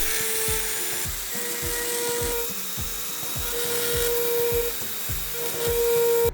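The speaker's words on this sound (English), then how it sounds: "I used fine dental burrs for the main part" A fine dental burr whines steadily at a high pitch while carving decoration into a wooden garden dibber, with rhythmic scraping strokes repeating about twice a second, close and fairly quiet.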